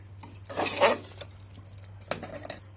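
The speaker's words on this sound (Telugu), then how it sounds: "ఇప్పుడు మిల్క్ వేసుకున్నాం కదా మంచిగా కలుపుకోవాలి" Milk being stirred into payasam in a pot, with a few soft scraping and sloshing strokes of a spoon against metal, close and fairly quiet, with pauses between.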